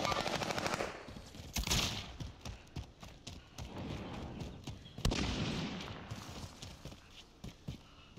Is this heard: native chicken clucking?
no